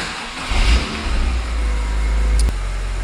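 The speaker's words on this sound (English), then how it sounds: "I'm going to start the car up, just warm it up for a bit." A car engine runs loud and close, with low, heavy rumble and a few swells of revving before settling into a steady warm-up idle; a brief click near the end.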